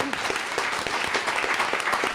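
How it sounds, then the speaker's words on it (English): A board of education meeting audience gives a round of applause for FCCLA students: a steady patter of many hands clapping at moderate loudness, sustained without a break. "So they deserve a round of applause."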